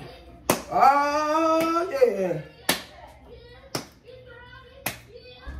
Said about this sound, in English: Clap, clap, clap, clap your hands.